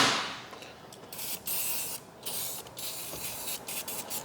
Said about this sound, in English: we're gonna spray some on the vents outside